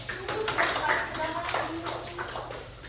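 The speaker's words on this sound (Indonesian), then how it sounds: "Tepuk tangan dulu." Students in a classroom give a short round of applause, a quick patter of scattered claps at moderate distance, with voices speaking over it.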